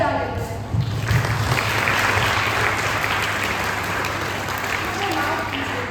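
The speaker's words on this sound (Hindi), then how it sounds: "ठीक है चलो तालियां ही बजा लेते हैं।" An audience claps at a spoken performance, with dense applause swelling in after a moment and holding steady, while a speaker's voice is faintly audible at the start.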